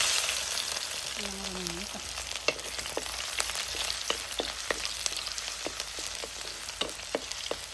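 Curry leaves and garlic sizzle steadily in hot oil in a pan, a dense crackling hiss broken by sharp pops and spits throughout, close and fairly loud.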